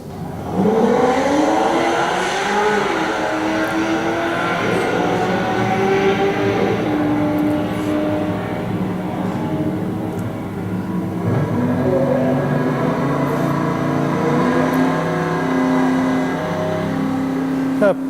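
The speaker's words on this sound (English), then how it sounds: "I think we're racing a Corvette here" A Corvette races down a drag strip, its engine roaring loud and close with shifting revving tones that rise and fall throughout, a continuous mechanical drone with no pauses.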